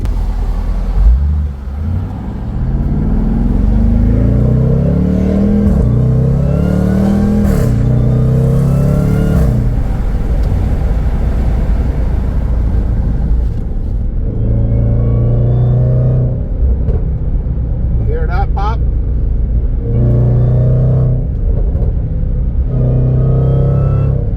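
A Jaguar F-Pace SVR engine revs hard and roars through rising and falling gears, close and continuous, with deep rumble throughout and no talking.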